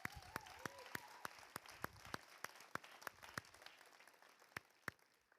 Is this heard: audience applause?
yes